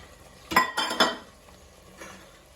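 Tomato gravy is tipped into onion gravy in a pot and stirred, giving a couple of close metallic clanks and scrapes of a spoon against the pot, followed by a softer knock.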